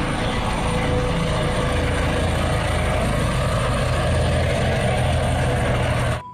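Steady loud mechanical roar from a helicopter with a continuous rotor drone, dense and unbroken throughout, fading out abruptly at the very end.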